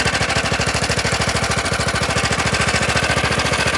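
Motor Sich MB-8e walk-behind tractor ploughing with a PO-1V reversible plough, its single-cylinder engine hammering in a fast, even, loud chugging rhythm close by, with no voices.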